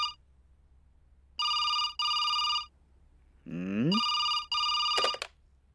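An old-style telephone bell rings indoors in short repeated bursts, paused between rings, with a brief voice and a click breaking in partway through.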